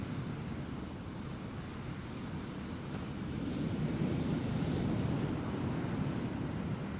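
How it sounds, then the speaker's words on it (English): Rough sea surf breaks and rolls onto the shore at Trunch Lane, Skegness, during a storm, a steady roaring wash mixed with wind buffeting the microphone, swelling slightly louder midway, with no speech. "That's the waves."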